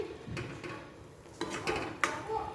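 A spoon clatters and scrapes against a pan while curd is stirred into sama khichdi, with a few sharper metallic knocks toward the end over a low kitchen background, close and moderately loud.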